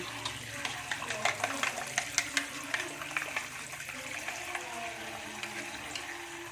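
Dough being washed by hand in water to separate out the gluten, with steady sloshing and splashing and a rhythm of small squelchy bursts over running water, close and moderately loud, with faint talk now and then.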